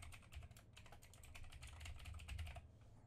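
Fast, steady keyboard tapping fills a few seconds as text is entered into a field, close and quiet, then it stops.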